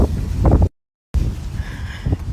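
Wind gusts buffet the microphone outdoors in heavy, rumbling bursts, cut by a brief dropout of total silence, then return with steady blustery roar.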